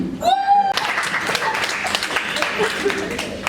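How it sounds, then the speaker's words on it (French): Women applauding at a university gathering in Kinshasa, a sustained round of clapping from a seated group after a short tonal cue, steady and fairly close, with a voice speaking over it. "je voudrais que les femmes puissent applaudir"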